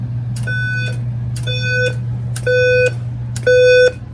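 A Simplex 4010 fire alarm system sounds its walk test signal, four evenly spaced electronic beeps about a second apart, loud and near over a steady low hum, with no talking.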